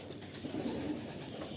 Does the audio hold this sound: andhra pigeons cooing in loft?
yes